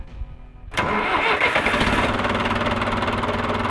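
A three-cylinder engine with its original muffler cranks briefly, then catches abruptly and settles into a steady, loud, throbbing idle close by.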